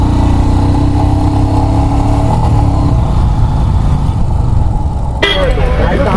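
A motorcycle overtakes through a traffic jam on a Kerala road near Munnar, its engine droning loudly and close with shifting pitch, and a sharp burst of brighter noise near the end.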